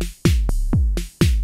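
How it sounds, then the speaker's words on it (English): A Modor DR-2 drum machine sequence with extra programmed hits thumps out a short pattern of deep, booming kicks and tonal drum strikes, loud, close and alone. "Now our drum sequence sounds like this"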